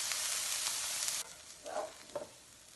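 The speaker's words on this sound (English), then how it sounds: "we let the onions and the pepper simmer for about 5 minutes" Onions and poblano pepper sizzling in a pan, a loud steady hiss that drops off abruptly, followed by a couple of soft stirring scrapes against a quieter sizzle.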